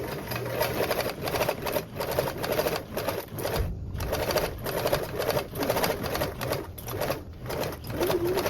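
A sewing machine stitches through webbing for a duffle bag, its fast mechanical chatter running steadily with brief pauses and restarts, close and fairly quiet.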